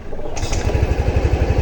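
A 2024 Yamaha Grand Filano Neo Hybrid scooter starts and then idles smoothly nearby, a quiet rhythmic low putter following a short chime-like tone, with no talking.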